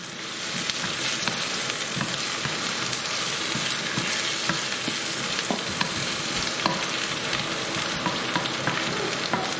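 Cinnamon sticks and whole spices fry in hot oil for a restaurant-style chicken rogan josh, giving a dense, steady sizzle with fine crackles and pops throughout and no voices.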